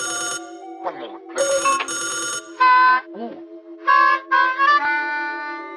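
Electronic phone ringtone plays in choppy bursts of melodic beeps, loud and close, in a game-related setting with no speech over it.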